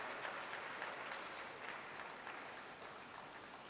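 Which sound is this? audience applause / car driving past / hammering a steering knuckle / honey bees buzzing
audience applause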